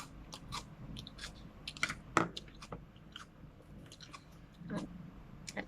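Someone chews raw beef from a Lao-Isan 'ju' dish close to the microphone, a quiet, wet, irregular mastication with occasional sharper crunchy clicks, under a faint background hum.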